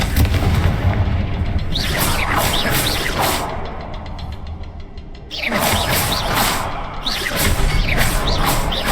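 Confringo fire-bolt spell explosions in the Hogwarts Legacy video game, with loud booming blasts and whooshing bursts in two clusters, dipping briefly to a quieter stretch between them.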